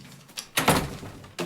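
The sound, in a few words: door being shut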